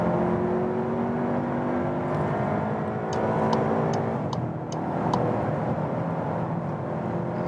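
A Volkswagen Passat Alltrack pulls onto a German Autobahn and accelerates, its steady engine and road drone filling the cabin with rising tones and a few brief ticks over the top.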